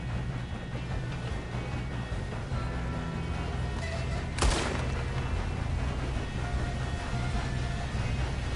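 Gunfire in a PS4 video game during a train heist, a dense bed of shooting and rumbling action with one sharp, loud gunshot crack standing out midway, no speech over it.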